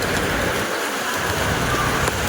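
Steady heavy rain falls continuously, a dense even hiss close by with no other sounds.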